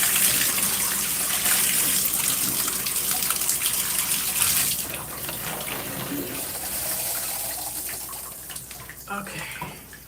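Water runs steadily from a tap during a live wash-and-go curly hair routine, a loud broadband gush for the first half that eases slightly afterward, with some handling noise toward the end.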